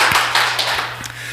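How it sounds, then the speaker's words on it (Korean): A Korean church congregation at a Sunday worship service claps in a loose, roughly even rhythm, a handful of distinct hand claps spaced about a quarter second apart over a low steady room hum. "하나님께 영광의 박수 올리도록 하겠습니다"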